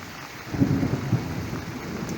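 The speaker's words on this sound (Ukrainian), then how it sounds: "І грім." Rain falls steadily with a low thunder rumble rolling through during a brief summer storm over a garden.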